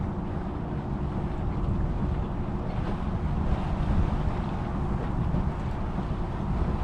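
Wind rushes steadily over the microphone while sailing on a lake, a loud, dense, low roar with slight gusting and no speech.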